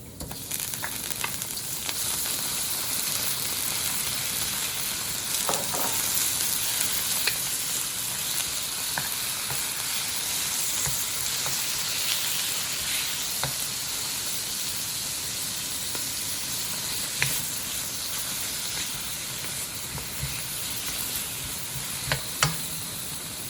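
Meat sizzling hard in a wok as it is stir-fried for a dried noodle dish, a continuous close hiss with occasional sharp spatters and stirring clicks, no voices.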